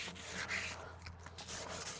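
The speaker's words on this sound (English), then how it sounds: "sanding block. And I just blend that in so it's nice and blunt." Quick back-and-forth rasping strokes of a sanding block rubbing against a horse's hoof during shoeing, close up, in an even scraping rhythm.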